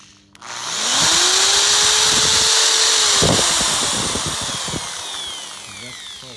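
An electric drill powered by a solar inverter whirs up to speed, holds a steady high whine for a few seconds, then winds down, with some clattering and handling noise nearby.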